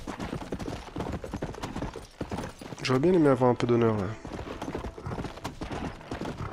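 Horse hooves in the video game Red Dead Redemption, a rapid close clip-clop running throughout under someone speaking French, with a loud tonal in-game sound in the middle.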